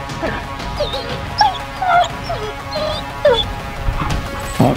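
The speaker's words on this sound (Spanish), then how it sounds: "¡Mi perro!" A dog whimpers with thin, high whines and occasional short yips, a few sharp bursts standing out over a low, noisy indoor background.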